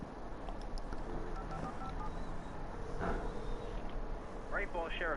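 A short run of telephone keypad tones in the video game Alan Wake against a dim game background, with a brief electronic warble near the end.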